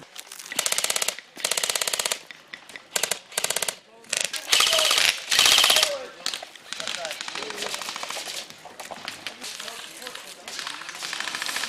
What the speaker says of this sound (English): This is your first chance trying the new Stoner LMG.